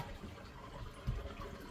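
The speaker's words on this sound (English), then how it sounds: "so if I flush, so look" A toilet in a soil and toilet setup flushes with a low, faint rush of running water and a brief gurgling surge midway, with no talk.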